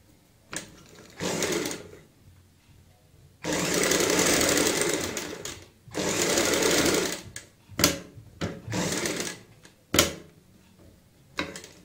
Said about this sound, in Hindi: अब हम इस पट्टी को ऐसे फोल्ड कर लेते हैं और ऊपर से सिलाई लगा लेते हैं।